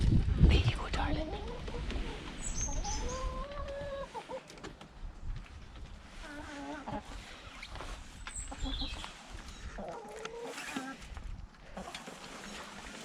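Chickens at a backyard coop cluck and murmur in short, scattered calls at close range, mixed with rustling and occasional soft voices.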